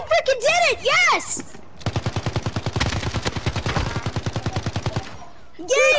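Rapid automatic gunfire in Warzone fires in a long, evenly paced burst of loud, close shots, framed by short, melodic game sound effects before and after.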